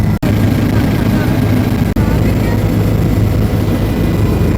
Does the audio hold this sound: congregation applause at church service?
no